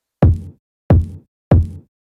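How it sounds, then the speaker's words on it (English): Three punchy hip hop kick drum hits from a boom bap drum pack, evenly spaced about two-thirds of a second apart, each a deep, tight thump with a short decay, playing alone. "I ended up finding this hip hop kick 2"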